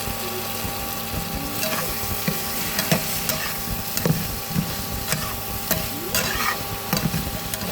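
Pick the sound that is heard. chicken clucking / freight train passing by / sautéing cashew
sautéing cashew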